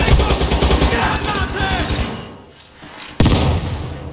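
MSBS-B futuristic rifle firing in World War III, a rapid burst of loud close shots with dense layered reports, a short lull, then a fresh burst.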